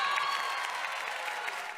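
A Broadway theatre audience claps in a dense, continuous wash of applause that stays steady and loud throughout, with no pauses.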